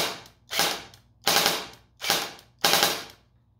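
An airsoft carbine running a 9.6 battery fires on full auto in five quick bursts, each a sharp rattling buzz that cuts off abruptly, close and loud with short gaps between.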